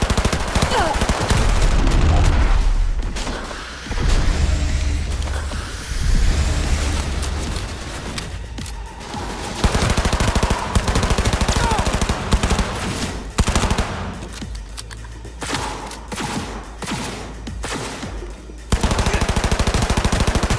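Rapid automatic gunfire rattles through a shootout in the video game Cyberpunk 2077, with loud bursts and booming impacts repeating across the stretch, pausing briefly and then resuming.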